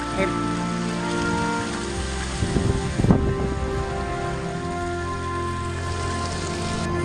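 Steady rain patters on a surface all the way through during a trek at Chavand Fort, with a short burst of rustling and wind noise in the middle.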